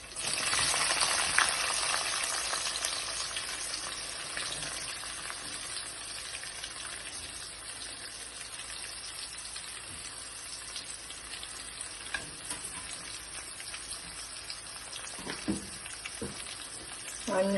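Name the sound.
onions frying in a pan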